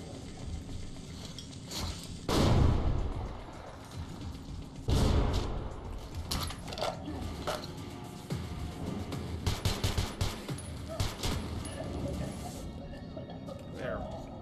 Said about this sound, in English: Hear me shooting?